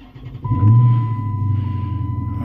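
A car engine cranks and catches, then settles into a steady, low idling rumble close by, with a faint constant tone above it.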